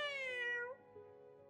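A cat in the video game Honkai Impact 3rd gives one drawn-out, clear meow that slides downward and fades into a softer tail, close and alone with no talk over it.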